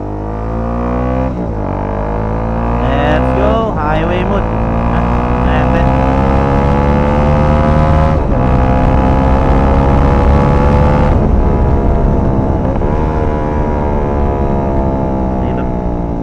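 A Bajaj Dominar 400 motorcycle fitted with an aftermarket exhaust pipe rumbles steadily while riding, its engine note rising and falling through gear changes, loud and continuous throughout.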